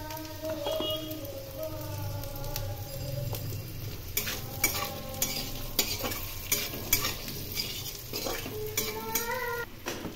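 Boiled jackfruit with potatoes and cumin powder being stirred and fried in a pan for a Bengali-style curry, with steady sizzling and repeated scraping clinks of a spatula against the metal, close and busy throughout.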